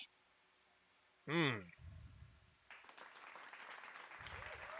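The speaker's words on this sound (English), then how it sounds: "Everyone in the tap room and the balconies above turns to you, raising their mugs, and they all begin cheering." A crowd in a fantasy tavern taproom, with balconies above, cheers and raises mugs. A single loud shout comes first, then a broad wash of cheering and clapping swells and holds steady to the end.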